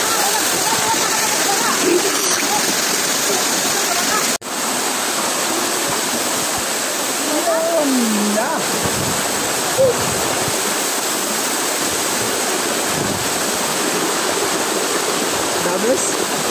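Lope de Vega waterfall, reached on a bike ride, pours with a continuous broad rushing roar. Faint voices and other small sounds come through intermittently over the water.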